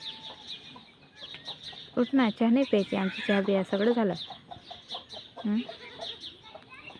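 A hen clucks in a village yard in the early morning, her leg tied with a thread and apparently hurt. The clucks come in short, close, fairly loud bursts, with people talking over and between them.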